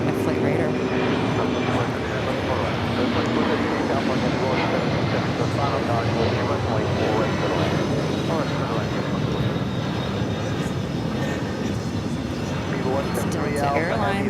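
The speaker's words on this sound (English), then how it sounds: "747 heading off to LAX" A Boeing 747 takes off from JFK, its broad jet roar steady and loud throughout, with a person talking over it.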